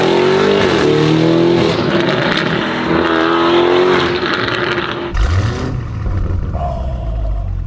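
Lamborghini Urus Esteso wide-body with a Novitec exhaust revs hard and loud up close, its roaring engine note climbing for several seconds before cutting off and settling into a lower, rumbling burble.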